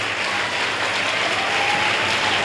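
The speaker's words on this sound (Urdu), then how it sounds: "میں چاہتا ہوں آپ سب سی ایم صاحب کے لیے تالیاں بجائیں" An audience at a formal government ceremony in Balochistan claps in steady, sustained applause that fills the hall with dense, even noise throughout.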